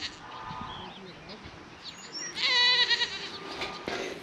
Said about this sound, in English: See our sheep?